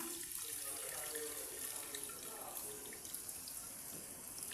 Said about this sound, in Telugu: చింతపండు పులుసు పోస్తున్నా